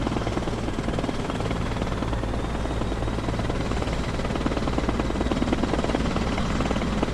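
Mi-24 attack helicopter in the video game Arma Reforger, a loud, steady rotor drone with a low thumping beat and broad engine roar that holds constant throughout, with no talking.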